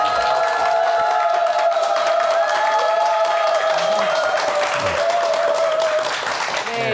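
A television studio audience claps and cheers to welcome a guest onto a morning show, loud sustained applause lasting several seconds, with a voice speaking over it toward the end.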